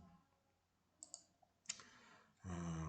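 A computer mouse gives a few quiet clicks, two quick ones close together and then another, with soft faint handling noise before and after.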